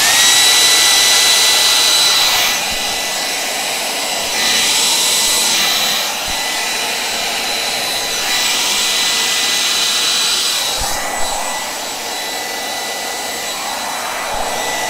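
A hair dryer blows steadily across a Dutch pour of acrylic paint, a loud continuous whoosh that swells and eases in waves as the airflow is moved over the canvas, with no talking.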